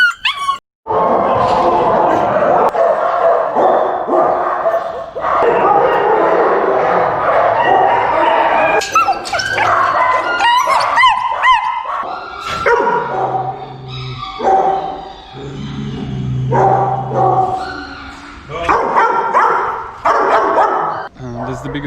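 Dogs barking at a large animal shelter on Reunion Island housing about 40 dogs: many loud overlapping barks, yips and whimpers, close and continuous, with a person speaking at times among them.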